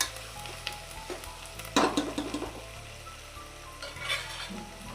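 Curry leaves fry in a pan, giving a soft crackling sizzle with a sharp burst of spitting and a few utensil scrapes and stirs, close up and fairly quiet, with background music.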